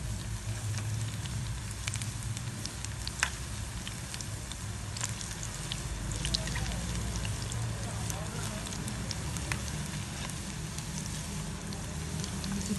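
Pakoras for kadhi pakora fry in hot ghee, giving a steady, close sizzle dotted with small crackles and pops, with someone talking over it.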